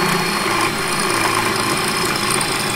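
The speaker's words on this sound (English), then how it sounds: "grab a 10 mil drill bit and just drill straight through there to allow the barrel to go through" A 10 mm drill bit boring straight through the body of a custom-built gel blaster pistol to make room for the barrel: a loud, steady, high-pitched whirring drone that runs continuously and close, with no talking.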